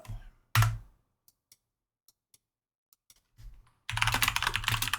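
Close fingers tap on a computer keyboard: scattered single key clicks and short strokes, then a dense, rapid run of typing near the end.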